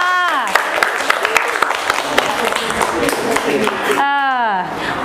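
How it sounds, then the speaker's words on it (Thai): Dense applause from a group of students during a classroom game, steady and fairly close, with a female teacher's voice speaking over it at the start and end. "ขอเสียงปรบมือให้ตัวเองหน่อยค่ะ"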